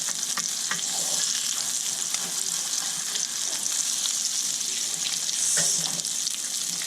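Homemade hamburger patties fry in a pan on a stovetop right after being flipped, a loud, steady sizzle with a few scrapes of the spatula.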